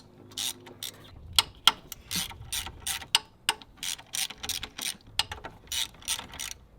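A ratchet backing out bolts on a Duramax thermostat housing, giving close, crisp bursts of rapid clicking pawl ratchets in an irregular rhythm, with short pauses between strokes.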